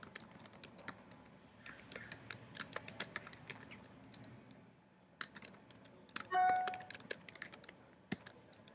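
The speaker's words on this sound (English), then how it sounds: "So I'm going to type the title and then center it." Fingers tap out an essay title on a computer keyboard, quick irregular clicking keystrokes in short bursts, close and fairly quiet, with a brief pause and a faint chime partway through.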